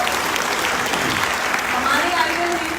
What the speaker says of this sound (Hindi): उनके लिए एक बार जोरदार ताली।